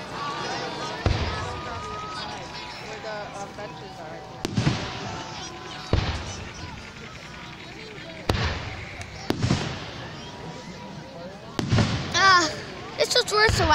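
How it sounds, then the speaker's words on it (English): Fireworks at a 4th of July display in Greenfield, Massachusetts, with several sharp, loud bursts spaced a few seconds apart over a steady crowd and background murmur. People talk throughout. "Better big fireworks."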